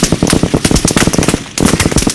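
Rapid bursts of gunfire crack in quick succession, a dense rattling volley with a brief pause before it resumes, loud and close.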